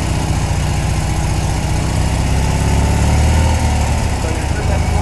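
Ice-cold BMW R60/5 motorcycle with a slightly flooded carburetor, its engine idling close and loud with a steady low, chugging rumble throughout; a voice may be faintly present underneath.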